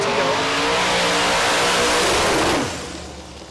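Ultimate radial class drag racers, including a GTO, launching down the strip with a loud, sustained engine roar that holds steady before dropping away, with a faint tire squeal.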